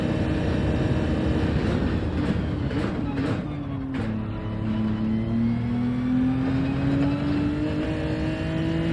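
Ford Mustang Genesis engine in Gran Turismo 7, a loud sustained drone that dips then climbs steadily in pitch as the car accelerates, with someone talking over it.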